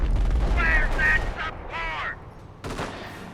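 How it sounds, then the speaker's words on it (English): Machine gun fire in the Company of Heroes World War II strategy game, short bursts of distant peppering heard under a voice talking continuously, ending with a sharper burst. "Here comes this machine gun infantry, from Area, just doing some light peppering from a distance along with the Panzer IV."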